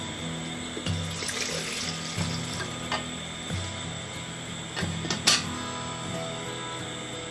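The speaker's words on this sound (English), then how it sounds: "2 cups, approximately 500 milliliters of water into the kettle." Water runs steadily into a kettle, about 500 millilitres, for several seconds, with a few clinks and a brief clatter partway through.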